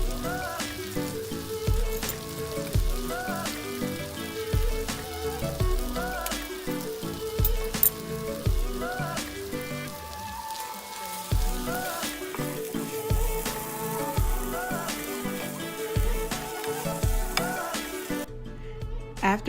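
Shrimp scampi with lemon cooking in a pan, a steady close sizzle with faint stirring scrapes running throughout under soft background music.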